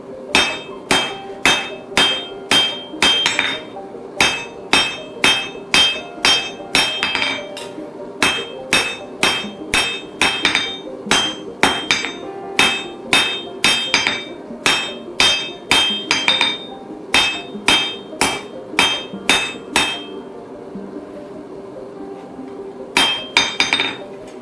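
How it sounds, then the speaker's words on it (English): Blacksmith hammer striking hot metal tongs on an anvil to flatten the curls, a close, ringing series of rapid blows in bursts with short pauses between. "bring it over to the anvil and you want to flatten the curls out"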